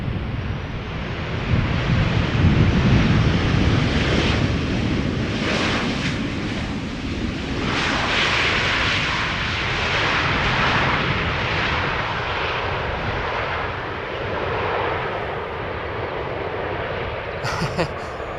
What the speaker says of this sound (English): Transavia, flying for KLM, flight 1422, arriving from Birmingham, 45 minutes of flight, 737-800, 21 years old